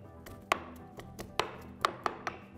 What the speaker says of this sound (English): I'm gonna start mashing it